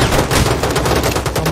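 Shotgun firing in a video game, a dense burst of loud, rapid gunshot blasts running together without pause.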